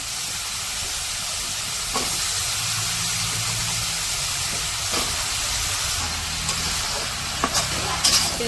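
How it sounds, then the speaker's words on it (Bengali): Vegetables stir-frying with spices in a village kitchen give a constant loud hiss and sizzle, with occasional scraping stirs and clinks toward the end, and no voices. "সবজিগুলো মশলার সাথে কষাই নিতেছে।"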